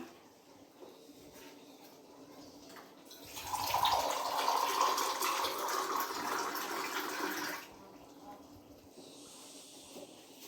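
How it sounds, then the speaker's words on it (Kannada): Water is poured into a pan of spiced chicken gravy, producing a loud, steady rushing hiss for about four seconds that then cuts back to the quieter simmer of the pan. "ಈಗ ಸ್ವಲ್ಪ ನೀರು ಹಾಕೊಂಡ್ಬಿಡೋಣ."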